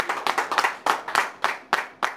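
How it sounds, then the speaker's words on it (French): A small church congregation claps, about a dozen uneven, close-up claps in a loose rhythm over a couple of seconds, with no other sound between them. "Acclamons Jésus le roi des rois."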